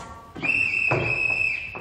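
A sustained, steady high-pitched whistle blows for over a second during a school stage production of The Sound of Music, loud and unbroken, with faint background rumble and a brief mid-clip disturbance.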